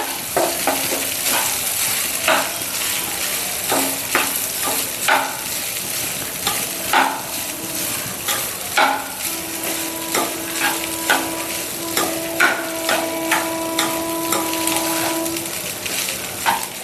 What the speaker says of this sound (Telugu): మనం అంతా కలిపేసుకోవాలండి కలిసేలాగా.